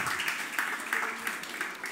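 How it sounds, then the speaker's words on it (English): An audience at a radio-talent interview claps together in a dense, even patter that holds steady for about two seconds. "Somebody deserves a big clap for that one."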